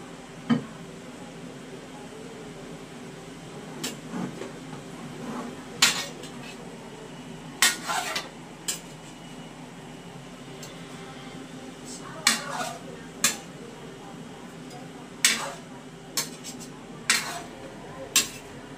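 Food being stirred in a cooking pot in a home kitchen, with scattered clinks and scrapes of a utensil against the pot over a steady background, some sharp and some soft, and no talking.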